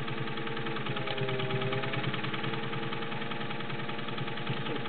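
A vintage Singer 201-2 gear-driven sewing machine runs steadily, giving a continuous, even mechanical hum with a fine rapid rhythm of needle strokes, close and alone throughout.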